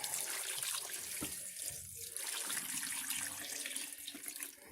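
Chicken broth pours into a slow cooker, a continuous close splashing stream with no voices over it.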